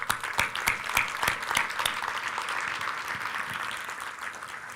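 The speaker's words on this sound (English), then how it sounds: "Let's give them a round of applause, guys." An audience applauds at an innovation event honoring guests, sustained dense clapping with some louder individual claps, steady and fairly close throughout.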